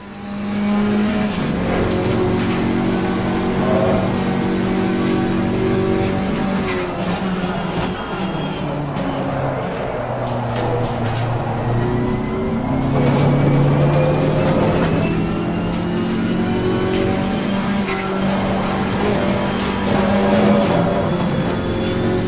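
Simulated GT4 race car in Assetto Corsa Competizione, driven hard through corners in second gear, engine note climbing and dropping with shifts and braking, loud and continuous with brief tire noise.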